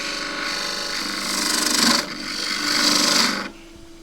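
A spindle gouge cuts wood on a lathe while turning a pagoda box, making a loud, steady rasping hiss that swells and eases in two long passes, then drops to the quieter whir of the spinning lathe.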